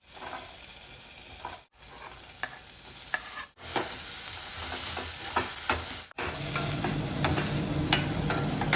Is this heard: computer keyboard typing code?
no